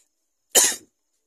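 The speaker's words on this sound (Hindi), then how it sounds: "मैं केला खा ली तो मेरे को खांसी आने लगा देखो" One short, sharp cough, close and clear, with silence on either side.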